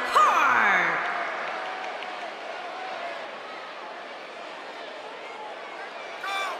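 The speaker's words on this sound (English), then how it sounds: "And Michael, it sounds to me like this crowd already picked the one who they want to win this match." Arena crowd in the WWE 2K19 wrestling game cheers and applauds, loudest at the start, then settles into a steady roar with a brief swell near the end; no talk over it.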